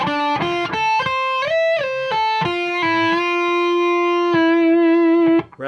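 Electric guitar played slowly through effects with distortion, an arpeggiated lead line using slides and string bends up to high notes; clear sustained notes ringing out one after another, loud and close, no talking.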